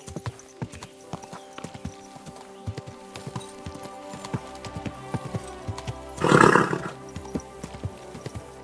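Horse hooves clop in a steady, fairly quick rhythm on a medieval road in Kingdom Come: Deliverance II, and a brief horse whinny rises over the hoofbeats near the end.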